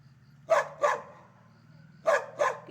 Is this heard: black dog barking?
yes